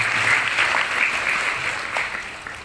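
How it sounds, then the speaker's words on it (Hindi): Children in a seminar audience clapping together, a burst of dense applause that is loudest at the start and gradually fades over a few seconds. "जोर से तालियां बजाएंगे।"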